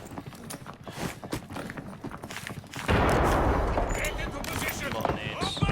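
Rapid gunfire from the shooter game Arena Breakout breaks out near the middle and keeps going as a dense, loud burst of shots, with a voice heard over the start.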